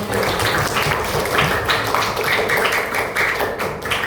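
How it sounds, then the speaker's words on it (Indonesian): A class of sixth-grade students applauds together, a dense, steady burst of many hands clapping close by that holds for several seconds without pause. "Tepuk tangan buat kita semua."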